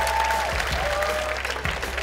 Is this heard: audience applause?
yes